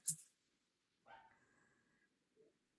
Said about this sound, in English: No, the barking.